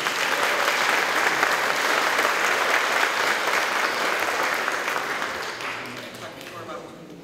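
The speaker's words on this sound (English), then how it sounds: "Let's give them a round of applause." A crowd at a Syttende Mai bunad show applauds warmly for the women in traditional costume, steady loud clapping that tapers off toward the end, with some voices beneath it.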